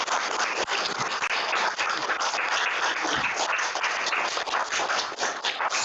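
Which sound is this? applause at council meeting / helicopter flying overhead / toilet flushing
applause at council meeting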